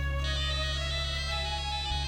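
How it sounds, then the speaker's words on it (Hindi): A phone ringtone plays a repeating electronic melody, steady and clear, with a low electrical hum underneath and no talking. "हिमाली का फोन है"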